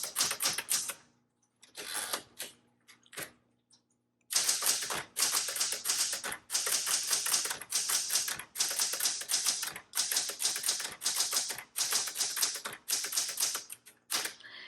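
A 1976 Classic 12 manual typewriter is typed on nearby, with brisk bursts of sharp key strikes separated by short pauses at first, then long steady runs of rapid clacking.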